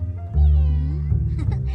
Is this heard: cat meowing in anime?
yes